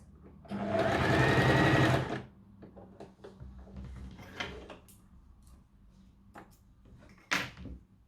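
A sewing machine stitches in a quick two-second whirring burst to lock the thread on a fabric rehabilitation pillow, followed by quieter clicks, handling sounds and a brief second whir.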